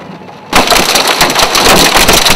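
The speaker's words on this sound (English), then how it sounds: "We got the rain wrapping in like crazy right now." Heavy rain mixed with hail battering a vehicle during a storm near West Chester, Iowa, bursting in suddenly as a loud, dense, crackling roar that stays steady and intense with no talk.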